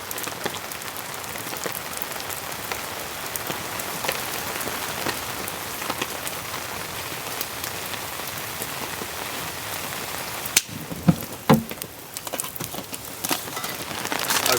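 Heavy rain drums on a compact camper van during a rainstorm, a loud dense roar of drops close by, with a few sharper knocks and splashes near the end.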